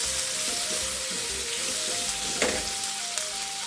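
Chopped tomato fries in masala for Karnataka-style bisi bele bath, a steady close sizzle with faint stirring scrapes and a soft background tone, no talking.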